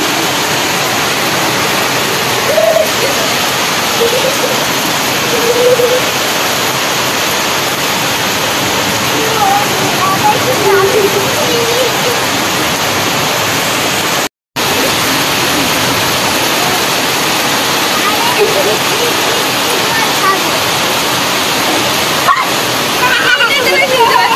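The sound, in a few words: heavy rain falling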